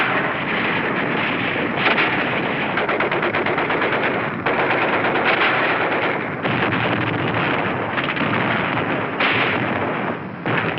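Mortar barrage and gunfire from the Battle of Iwo Jima, recorded in wartime, form a dense, loud, continuous roar of rapid firing and blasts, muffled and band-limited like old film sound.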